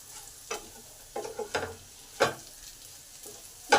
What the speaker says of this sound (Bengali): আলু পেঁয়াজ বেশ ভাজা ভাজা হয়ে এসেছে,